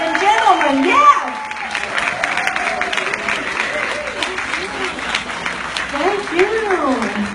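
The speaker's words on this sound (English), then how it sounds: "Give her a big round of applause now" Audience applause and cheering at an Avon anniversary rally in Sacramento, a sustained crowd clapping over several seconds while a speaker talks over it.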